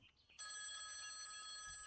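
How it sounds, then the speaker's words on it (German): In the video game Copycat, a telephone bell breaks in abruptly and keeps ringing as a steady, loud, bright trill, heard on its own without talk. "Da klingelt ein Telefon."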